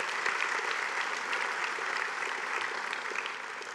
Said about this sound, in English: Let's give everyone who works in this area a big round of applause.